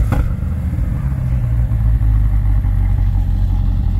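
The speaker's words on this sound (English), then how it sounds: "Cold start is really loud." A 2023 Chevrolet Corvette C8 Stingray V8 fires up from a cold start with a sharp catch, then settles into a loud, deep, rumbling idle close by.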